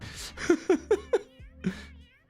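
A cat meows in a quick run of four short, fairly loud calls, then gives one more meow after a brief pause, with no talking over it.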